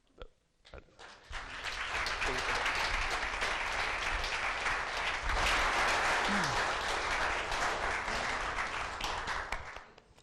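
An audience at a startup demo day breaks into applause that swells within a second and then holds as a dense, loud, sustained roar of clapping for about eight seconds before fading out, with faint voices briefly underneath.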